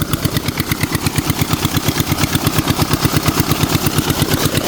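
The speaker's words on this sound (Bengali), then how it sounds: "ইঞ্জিন চালিত যেই মেশিন যেটা যেটার মাধ্যমে পানি তোলা হয়" An engine-driven irrigation water pump running up close, its motor thudding in a fast, even pulse with a loud steady rattle throughout, no voices.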